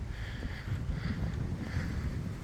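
Wind blowing outdoors at Rye Castle in East Sussex on a mild, gusty day: a continuous low rushing buffet across the microphone with faint airy whistling, steady and fairly close, with no talk.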